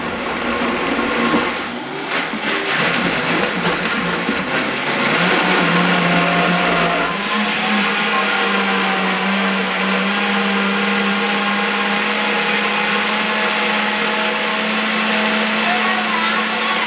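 A blender runs continuously as it blends a thick smoothie bowl made with half a cup of almond milk. The loud motor roar shifts to a lower, steadier drone partway through.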